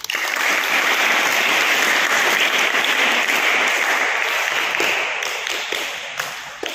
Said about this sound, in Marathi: मी तुमचं प्रथम टाळ्या वाजून अभिनंदन करतो